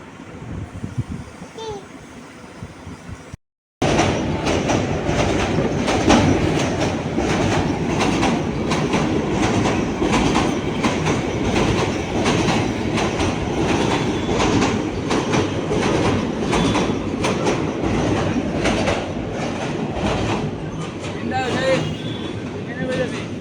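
A train passes on a railway line at Ghorashal with a loud, steady rumble and a rhythmic clickety-clack of wheels for about twenty seconds, while voices speak faintly nearby before it arrives.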